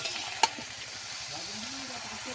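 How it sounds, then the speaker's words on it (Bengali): Winter vegetables fry in oil in a pan for a Bengali chorchori, giving a quiet, steady sizzle. A single sharp clink of a utensil sounds near the start. "আমি এটা কিছু সময় ধরে ভালো করে ভেজে নেবো"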